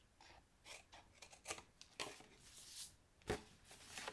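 Scissors snip through a scored paper box template, making a series of short, crisp cuts at irregular intervals with a couple of louder snips, heard close up and alone without talk.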